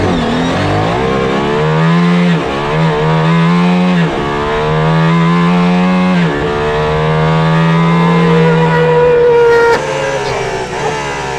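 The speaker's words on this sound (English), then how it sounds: "the Valkyrie is noisy inside. It's also quite fast." Aston Martin Valkyrie engine heard from inside the cabin, screaming very loudly as it accelerates hard through several gears, the pitch climbing and dropping at each shift across a sustained, cabin-filling roar.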